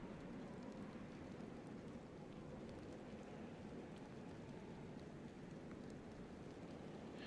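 Rain falling in the survival game DayZ, a faint, even, continuous hiss of steady rainfall with no voices.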